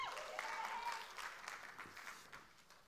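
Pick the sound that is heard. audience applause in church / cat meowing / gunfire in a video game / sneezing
audience applause in church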